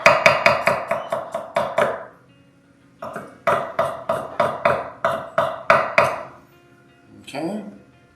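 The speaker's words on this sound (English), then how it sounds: "Local garlic, just lightly smash it. Chop." Cloves of local garlic lightly smashed and chopped with a knife on a board: two quick bursts of sharp, rhythmic chops, about seven fast strokes each, close and loud, separated by a pause, then a softer scrape.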